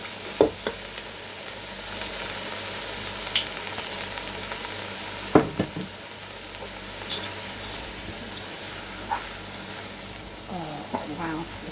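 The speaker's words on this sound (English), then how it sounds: "I'm going to go in with some balsamic vinegar" A decent splodge of balsamic vinegar hits a hot pan of braised red cabbage with star anise, giving a steady close sizzle broken by occasional clicks and stirring scrapes.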